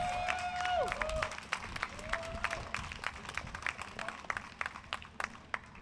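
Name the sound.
audience applause welcoming Derek and Chad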